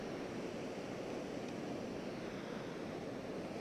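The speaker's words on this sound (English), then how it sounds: "When the water plunging over the cliff" Water of Hukou Waterfall thunders over a cliff in a constant, broad roar, steady and close throughout, with no speech.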